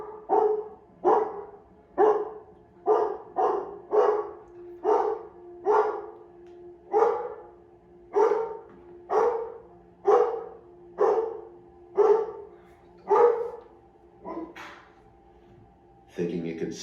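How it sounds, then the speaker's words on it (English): A dog barks loudly and close by, about fifteen sharp barks at a steady pace of roughly one per second, with a short pause near the end before one more bark starts. "my dog started barking loudly,"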